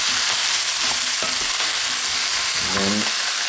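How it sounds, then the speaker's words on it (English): Radish curry sizzling and frying steadily in a pan while being stirred, with scraping and clattering of the spoon against the pan, loud and close with no talking. "Stir"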